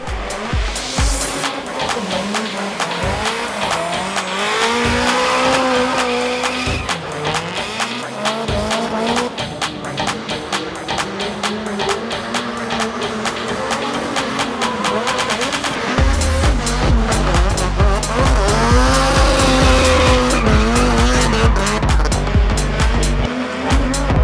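Drift cars battling at Meihan Sportsland during the Kansai All-Stars 2025 competition, engines revving hard and bouncing off the limiter as tires squeal through long slides, loud and sustained with a deeper engine surge joining later.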